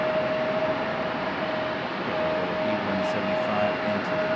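An Embraer E175 jet taxis toward the gate at Raleigh-Durham airport, a steady broadband engine roar with a constant high whine, heard from a moderate distance with no break in the noise.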